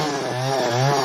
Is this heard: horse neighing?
no